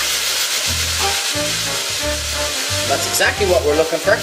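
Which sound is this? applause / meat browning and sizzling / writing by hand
meat browning and sizzling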